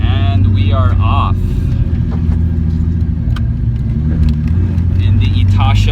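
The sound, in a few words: Nissan 240SX S14 with VQ35 engine driving off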